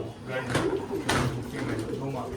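Pigeons coo softly and repeatedly at close range in a loft, the calls mixed with someone talking over them.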